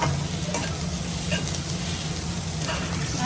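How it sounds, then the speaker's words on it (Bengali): Garlic, green chili and onion sizzle and crackle in hot oil in a pan, a steady loud frying hiss with occasional stirring scrapes. "রসুন আর কাঁচা লঙ্কা একসাথে ভেজে নেব"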